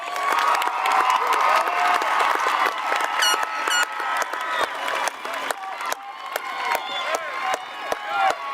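A crowd at a school graduation ceremony applauds the graduates, with scattered claps, cheers and shouts under lively chatter from the audience.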